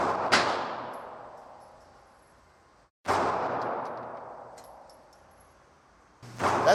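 Three loud, sharp gunshots fired at an indoor shooting range from the 15-yard line, each cracking out and ringing off in a long reverberant decay, spaced about three seconds apart.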